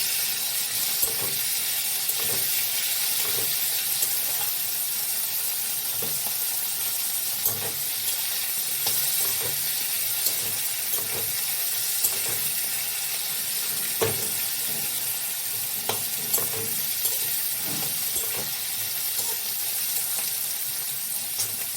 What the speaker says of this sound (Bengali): দিয়ে পেঁয়াজটা লাল লাল করে আলুর সাথে ভেজে নেব